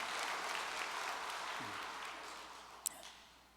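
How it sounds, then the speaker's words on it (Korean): Audience applause during an event aboard a cruise on the Bukhan River, a broad wash of clapping that starts full and gradually fades, with a single sharp click near the end. "우리 상기혁 사모님을 위해서 박수 한번 했습니다."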